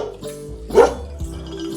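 A single close bark from a dog in a children's animal-sounds piece, one short sharp yelp over a soft musical bed.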